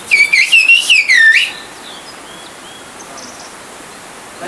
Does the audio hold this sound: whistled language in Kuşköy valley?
yes